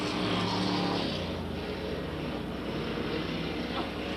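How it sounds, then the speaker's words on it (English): A Pure Stock race car at a 1993 Freedom race drones loudly and steadily as it runs along the straightaway, its engine roar broad and continuous with a slight uneven flutter in the motor. "we hear a flutter in the motor on that 25 car"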